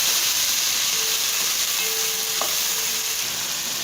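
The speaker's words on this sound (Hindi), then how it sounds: "फिर इसको आपने 2 मिनट फ्राई करना है" Onions, green chilies and ginger-garlic paste frying in a pan, a steady bright sizzle with hiss that stays close and constant throughout, broken by a few light utensil scrapes.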